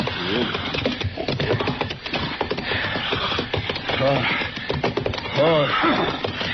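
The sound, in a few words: horse whinnying in a radio drama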